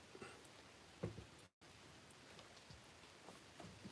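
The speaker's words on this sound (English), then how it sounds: "Looks like the rain's calming down a little bit." Steady rain patters on a surface, a soft continuous hiss with occasional heavier drops, broken by a brief moment of silence midway.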